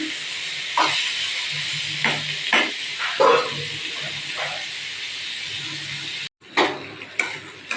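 Carrot and chana dal sauté in a pan, a steady close hiss of frying broken by intermittent stirring scrapes and clicks, with a brief cut near the end.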